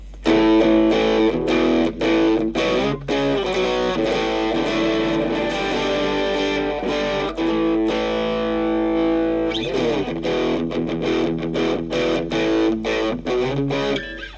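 Electric guitar played through a distortion tone on a Cube Baby Pro amp modeler with cab simulation, recorded direct: a steady run of loud, crunchy chords and riffs with brief breaks, no talking.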